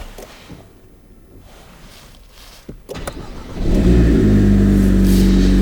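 A 2021 Renault Alpine A110 with a flap exhaust sits quiet, gives a few clicks, then fires up with a loud, close burst that holds as a full, rumbling idle.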